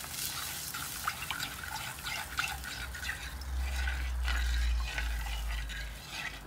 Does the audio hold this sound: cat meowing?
no